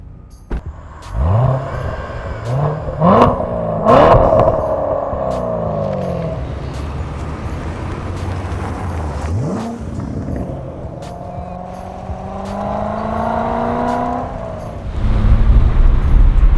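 A 2014 Chevrolet Corvette Stingray C7 Convertible accelerates on the road, its engine rising through several loud, close revving sweeps in succession, then settling into a steadier drone before surging again at the end.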